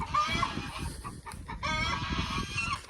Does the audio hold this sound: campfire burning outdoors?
no